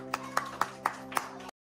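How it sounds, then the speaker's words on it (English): A small group claps briefly in about five sharp, evenly spaced bursts over a steady tonal background. The clapping stops abruptly into silence. "Give yourself a round of applause."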